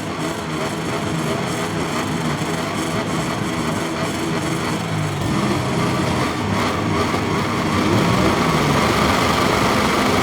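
Motorcycle engines rev on the starting grid in the racing game MotoGP 23, making a dense, loud, continuous mechanical roar that swells slightly toward the end.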